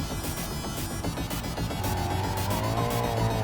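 Continuous BMW 850CSi engine roaring in BeamNG with rapid crackling exhaust pops like a machine gun, a steady loud rumble with a rising tone toward the end.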